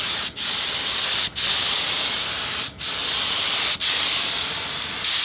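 Paint spray gun misting acetone against a garage wall while it is set up for priming a car undercarriage, a loud continuous hiss broken by four short pauses between bursts.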